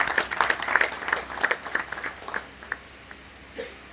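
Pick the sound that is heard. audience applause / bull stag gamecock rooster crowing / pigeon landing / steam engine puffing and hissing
audience applause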